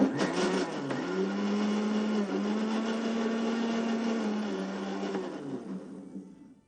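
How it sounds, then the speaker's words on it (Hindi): A kitchen mixer whirs steadily while blending a mango milkshake with cold milk and honey, a loud, even motor drone with a slight pitch dip early on that runs for several seconds before winding down and stopping. "इसको मिक्सर में कुछ देर तक होने दें ताकि इसका जो वॉल्यूम है इसमें थोड़ी झाग आनी चाहिए"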